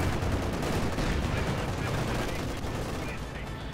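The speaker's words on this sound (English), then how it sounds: "Then he's holding up here with a light machine gun" Machine gun fire and battle noise in the strategy video game Company of Heroes 2, a dense continuous wash of gunfire and explosions, with a commentator talking over it.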